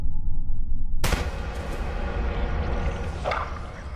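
A pistol gunshot in a dark Roblox horror game lands as a sudden loud blast about a second in, over a heavy low rumbling background, then a long ringing decay.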